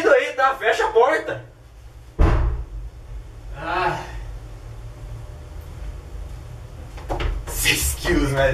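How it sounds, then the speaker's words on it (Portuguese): A door, likely the bathroom door, is shut with one firm, close thud, with people talking before it and more voices and light knocks after. "Fecha a porta."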